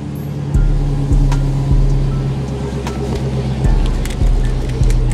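Dodge Hellcat sports car engine idling with a deep steady rumble, punctuated by several short blips or revs at roughly regular intervals, close and loud with no talk.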